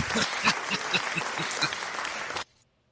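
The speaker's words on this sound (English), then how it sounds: "they're giving you a great applause." An audience claps with a few distinct hand strikes standing out from the crowd, moderately loud, then the applause stops abruptly into near silence.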